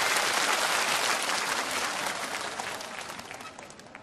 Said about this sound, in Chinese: 掌声再次有请几位